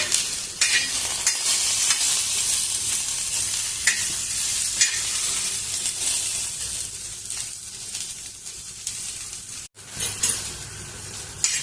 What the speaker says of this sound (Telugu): కొంచెం కలుపుకుంటా వేయించుకోండి